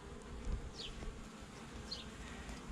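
Honeybees buzz softly around a small queenless hive colony, a faint steady hum with a couple of individual bees passing close by.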